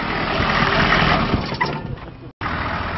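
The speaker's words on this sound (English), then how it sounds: "So we're just going to shut it off and try it one more time." A truck or car engine runs steadily and loud through a repair job on a faulty pump, then shuts off abruptly, with a brief silence before the engine noise resumes.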